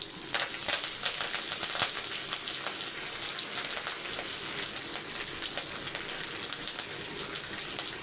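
Tempering of vadagam and curry leaves crackling in hot sesame oil for a dry fish curry, a continuous hissing sizzle peppered with sharp pops, steady and close throughout.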